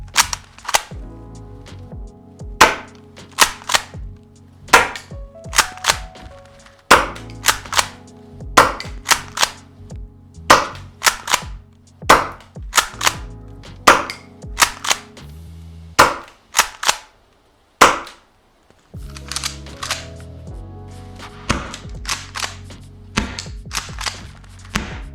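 Airsoft guns on a compressed air hose fire loud, sharp, snapping shots in irregular bursts and single cracks with short pauses between them. No voices are heard.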